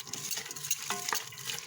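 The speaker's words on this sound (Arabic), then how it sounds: "نقلب فيه، نحط عليه حبة ملح ونقلبه لحد ما يحمر" Onion frying in plenty of oil for Egyptian koshari, stirred steadily with a utensil; a soft continuous sizzle and crackle with scraping strokes, close and fairly quiet, no voices.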